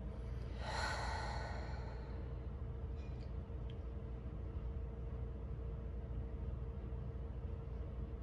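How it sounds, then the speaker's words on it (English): Deep exhale during a guided relaxation breathing exercise, a breathy rush rising near the start and fading over a couple of seconds, then quieter steady breathing over a constant low background hum. "And then relax, exhale, holding and breathing."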